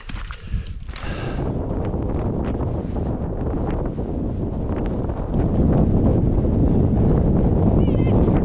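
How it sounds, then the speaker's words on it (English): Strong wind on a high mountain pass on a backpacking route in the Wind River Range, buffeting the microphone in a loud, rumbling roar that grows heavier toward the end, with some faint movement underneath. "Bit of wind."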